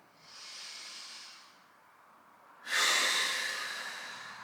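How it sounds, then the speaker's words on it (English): Deep breathing during a stretching exercise: a slow, airy inhale swells and fades, then a stronger, louder breath rushes out and tapers off, close and alone. "We look to the left and we take deep breaths in"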